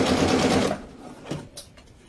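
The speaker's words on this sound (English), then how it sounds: "I'm just going to sew both sides." A sewing machine stitching the sides of a fabric bag, whirring loudly and steadily for under a second before stopping, followed by a few faint clicks and handling noises.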